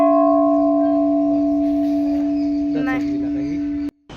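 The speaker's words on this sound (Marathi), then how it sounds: "हे घंटी जर तुम्ही खूप जोरात मारा तर पिंडीवरून पाणी येतं" A loud temple bell, struck hard, rings with a long, steady sustained tone that rings on for several seconds before being cut off abruptly, with faint voices underneath.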